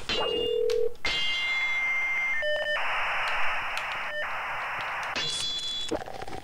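Dial-up modem connecting inside the 1999 Xena: Warrior Princess PlayStation game, with a dial tone, DTMF beeps, then screeching handshake tones and a hissing noise burst, loud and continuous with no talk.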